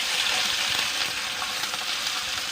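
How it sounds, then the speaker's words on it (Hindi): Finely chopped garlic hits a hot pan of oil for a spicy fish dish and sizzles steadily and close, a continuous bright crackle with no voices. "अब हम इसमें डालेंगे बारीक कटा हुआ लहसुन है"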